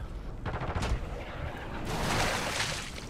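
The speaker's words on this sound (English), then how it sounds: "Friendly precision airstrike inbound." A precision airstrike in Call of Duty lands as a rumbling burst of explosive blasts and rapid fire, rising into a loud, sustained roar in the latter half.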